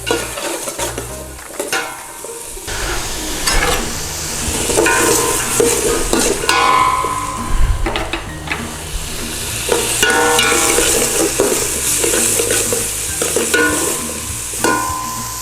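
Chili mac ingredients being stirred and cooked in a pan crackle and sizzle up close, with bursts of spoon scraping and a few clanks against the metal.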